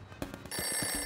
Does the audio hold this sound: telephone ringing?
yes